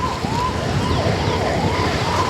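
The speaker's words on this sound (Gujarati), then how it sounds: "તો એમ્બ્યુલન્સની પાછળ હું જઈ રહ્યો છું विशाल" A 108 ambulance siren, a loud wailing tone that rises and falls repeatedly, heard close while following the ambulance, over a continuous rushing road and wind noise.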